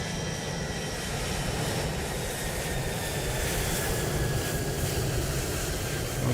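Airliner taking off in Microsoft Flight Simulator 2020, a Ryanair jet on the runway at Cardiff, giving a steady, loud engine roar and broad rumble that holds evenly throughout with no talk.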